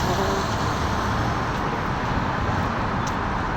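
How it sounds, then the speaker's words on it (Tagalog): Steady roar of street traffic in the Philippines with cars and heavier vehicles passing, a continuous dense wash of road noise close by. "Pasensya na kayo sa ingay ng mga sasakyan"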